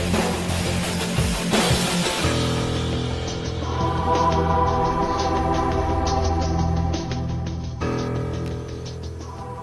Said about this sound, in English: That drum sound you're hearing, that's a snare drum.